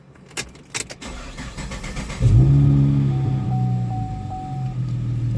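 A 2011 Chevy Camaro with an intermittent hard-start and misfire problem cranks briefly and catches, settling into a loud, close idle with a steady low rumble after a few sharp clicks.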